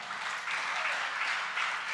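An audience at a religious sermon in Jabalpur claps together, a dense, steady wash of applause lasting throughout, even and fairly loud with no talk over it.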